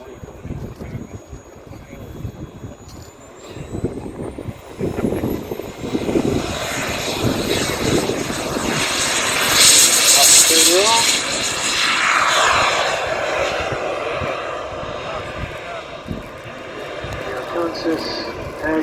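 A fixed-wing plane flying aerobatics drones steadily as its engine rises and falls in pitch, with someone talking over it for much of the time.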